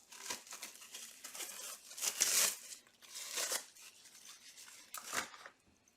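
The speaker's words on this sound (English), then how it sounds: "And then we take our second loaf and cut that as well." A knife saws through a loaf of savory monkey bread dough in a kitchen, giving close, soft crinkly scraping strokes in short bursts with no talk.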